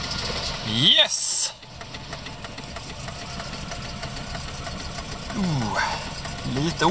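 Volvo 240 engine idling roughly and unevenly, as if running on three cylinders, a steady close mechanical churn with a brief louder burst near the start.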